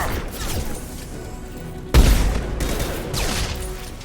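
Locust SMG fire in Mass Effect 2, with a sharp loud burst of shots near the two-second mark. Further rapid gunfire and game noise follow.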